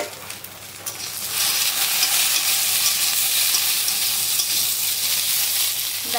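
Chopped vegetables for a tamarind ambol, okra and brinjal, sizzle loudly in hot oil in a pan as prawns are added, a sharp frying hiss that swells after a quieter start and holds steady with stirring.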